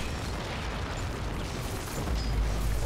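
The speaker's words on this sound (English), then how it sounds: "Oh, so many explosions! So many explosions!" Explosions in the video game Warhammer 40K: Inquisitor Martyr form a dense, continuous rumble of overlapping blasts and bursts, loud and close, with heavier low booms swelling toward the end.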